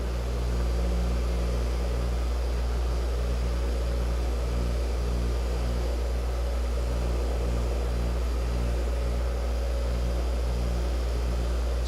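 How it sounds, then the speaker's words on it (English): An old Blue Point bench grinder running: a loud, steady motor hum with a strong low drone and a whirring tone, constant for the whole stretch with no talk. "Grant, this thing's an oldie goldie. Blue Point bench grinder."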